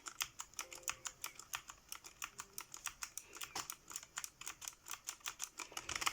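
Steady, rhythmic clacking of a Genesis Thor 200 RGB gaming keyboard being typed on, crisp and close, with no voices.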